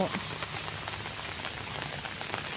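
Rain falling steadily over rice-field banks and a lotus pond, a dense, even hiss of drops that runs on without a break.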